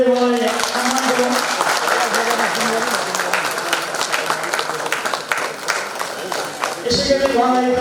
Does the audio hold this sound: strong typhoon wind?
no